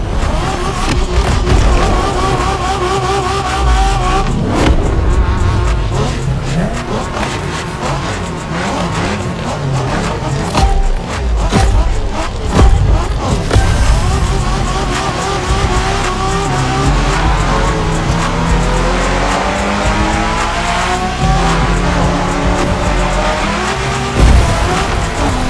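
A car in The Crew Motorfest video game during Japanese street racing, its engine loudly revving and shifting through gears while tires squeal and skid repeatedly throughout.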